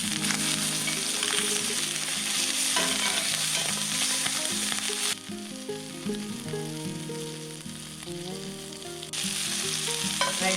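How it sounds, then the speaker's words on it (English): Ptarmigan breasts fry in a pan while they are basted with butter, giving a loud, steady sizzle and crackle close up, with some music playing underneath. "I added 1 more tablespoon of butter, and I'm basting the breast with the butter."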